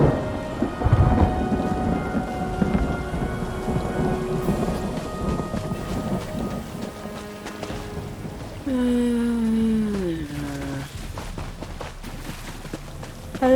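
Steady heavy rain with deep rumbling thunder fills a stormy scene in the video game Elder Scrolls Online, joined midway by a brief sliding tonal game sound and faint footsteps.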